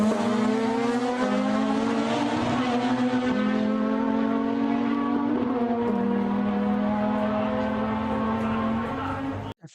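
A Series 6 Mazda RX-7 in an old-school JDM drag race, its engine screaming at high pitch with steady rising tones between gear changes, loud and close, ending abruptly.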